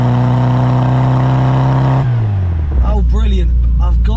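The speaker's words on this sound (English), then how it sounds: "I absolutely love the noise that this thing makes. The fact that it sounds like some sort of sporty motorbike is bloody brilliant." A vintage Italian camper van's engine holds a loud, buzzy, motorbike-like note, then drops away as it slows, and a person starts talking over the softer running engine.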